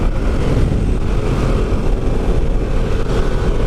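A Harley-Davidson Pan America motorcycle engine runs loud and close, a steady, dense rumble with a slight rise in revs, heard alone with no talking.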